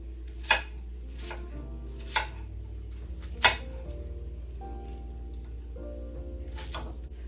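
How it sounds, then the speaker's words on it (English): A knife chops an onion on a cutting board in a home kitchen, giving three sharp, separate thuds over a steady low hum with no talking. "I'm gonna cut up an onion here because you do need an onion"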